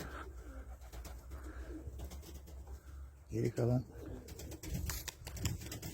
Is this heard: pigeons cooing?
yes